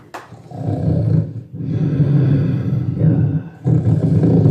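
Man imitating a lion roar with his voice, producing several deep, rough, rumbling roars in close succession, loud and near, separated by short pauses, with a brief spoken word.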